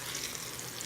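Onions browning in oil in a pan, a steady, close hiss and crackle of frying that fills the whole short stretch without a break.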